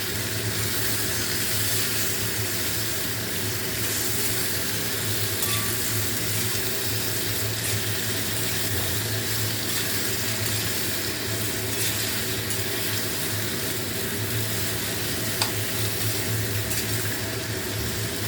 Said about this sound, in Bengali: তো আলুটা এরকম করে ফ্রাই করতে হবে খানিকক্ষণ।